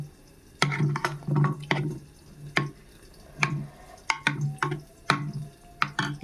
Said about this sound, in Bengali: ঘিটাও আমি এর মধ্যে দিয়ে দিলাম, দিয়ে একটু নাড়িয়ে নিচ্ছি